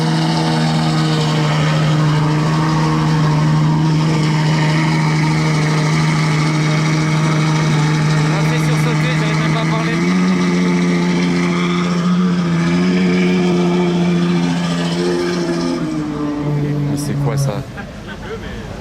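A Bugatti Divo supercar's engine in Monaco, a loud steady droning rumble with a pitch shift midway and the sound dropping off near the end, heard close up.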